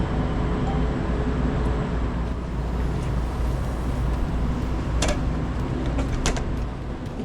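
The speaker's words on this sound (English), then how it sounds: "The train came right away." A Vancouver Expo line SkyTrain arrives at a station, a steady broad rumble of rail noise and hum filling the platform, with a couple of sharp higher clanks or brake squeals near the end.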